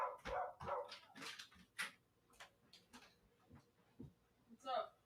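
A dog barks repeatedly in a yard at a visiting pool man, sharp irregular barks at moderate distance, mixed with people talking nearby.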